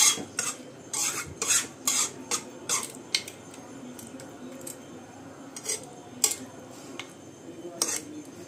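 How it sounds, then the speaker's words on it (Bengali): A spoon stirs sugar through leafy greens cooking in a pot, producing repeated scraping and clinking strokes against the metal in an irregular rhythm, close and moderately loud, with a faint steady simmer beneath. "শাকটাতে যেন মিশে যায় সেইভাবে আমি চিনিটাকে মিশিয়ে দেওয়ার চেষ্টা করছি।"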